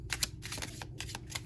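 Small tarot deck being shuffled by hand, a quiet, close run of soft riffling card flutters and taps in irregular bursts.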